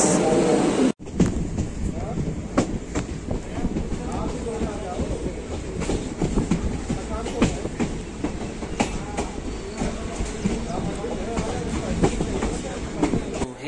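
The Chandigarh Express rolls along platform eight at a railway station, a steady rumble of wagons with rhythmic wheel clicks and occasional squeal, heard up close and continuous.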